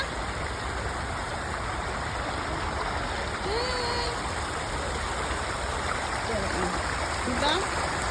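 Rushing water from an artificial waterfall and river at Katara Cultural Village, a continuous loud broadband flow throughout, with faint voices and birdlike chirps mixed in.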